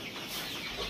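Chickens cluck in a fattening coop on a poultry farm, a dense, continuous murmur of many birds close by, with no talking over it.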